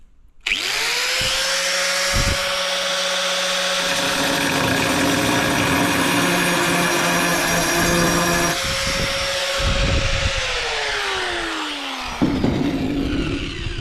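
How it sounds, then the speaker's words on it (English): An angle grinder cuts a round hole in porcelain tile with a loud, sustained high whine. The blade bites and screeches against the tile for most of the stretch, then winds down near the end. "If I had to cut a round hole like that, with my grinder"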